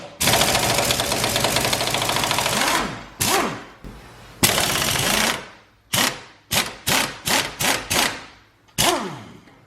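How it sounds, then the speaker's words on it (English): An air impact gun hammers on wheel bearing bolts: one long continuous rattling burst, then a string of short, sharp bursts of varying length, loud and close, with no talking. "I'm going to use the impact gun for this one, because these bolts can be a bitch."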